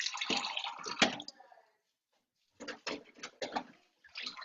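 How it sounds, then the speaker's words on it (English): Water running from a tap as someone fills a container, picked up in the background of an online meeting: rushing, splashing bursts that stop for about a second, then resume in short uneven spurts. "Somebody's filling water."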